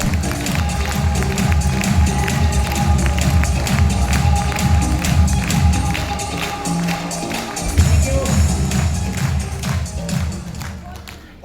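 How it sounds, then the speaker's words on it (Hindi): Loud, dense clapping from a seminar audience in Delhi, honoring Rakesh and a woman on stage. It falls into a steady rhythmic beat and carries on throughout, with voices mixed in. "एक बार जोरदार ताली होनी चाहिए"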